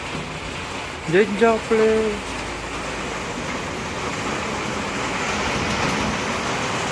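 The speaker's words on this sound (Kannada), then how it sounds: "ಮಳೆ ನೋಡ್ರಿ ಫ್ರೆಂಡ್ಸ್, ಮಳೆ ಹೆಂಗೆ ಹೊಡ್ಲತ್ತದ ರಾತ್ರಿ" Heavy rain pours down at night outdoors in Budagumpa, a dense, even roar of falling water that holds through the whole stretch, with a brief spoken word near the start.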